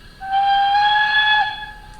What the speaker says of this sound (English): Nice shorter whistle there